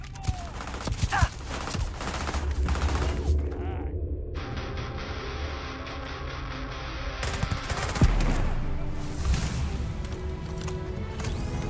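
Sustained gunfire and combat effects in the modded space RPG Starfield, dense, loud and continuous across the whole stretch, with game music and effects layered underneath.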